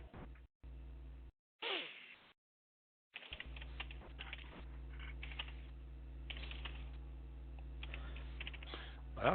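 Someone types on a computer keyboard in bursts of quick, faint clicks, with gaps of silence between them and a low background hum.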